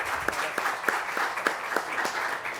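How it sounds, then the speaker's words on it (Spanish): University audience at a UNAM Dirección General del Deporte Universitario event claps for a guest speaker, a moderate crowd of hands with regular sharp peaks, sustained evenly for a couple of seconds. "les pido un fuerte aplauso, por favor"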